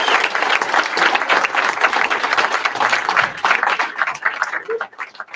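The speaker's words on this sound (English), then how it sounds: "give every veteran in here a round of applause" Crowd applauding veterans at an indoor gathering, dense steady clapping from many hands close by that fills the room for several seconds and then thins out.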